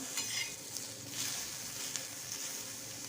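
Green peas roast in a pan for a quick chutney, giving a faint, steady dry sizzle with light stirring scrapes and occasional soft clicks from the utensil.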